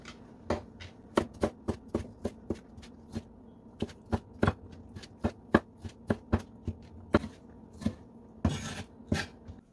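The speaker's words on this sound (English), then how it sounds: "we're gonna go ahead and cut it like so, small" Knife chopping a seeded tomato into small cubes on a board, a rapid series of crisp, close, evenly paced cuts heard alone.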